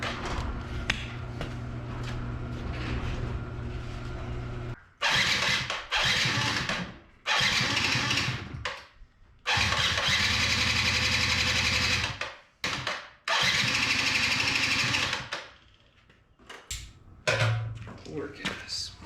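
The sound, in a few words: 2005 Yamaha YW50 Zuma scooter engine being started and revved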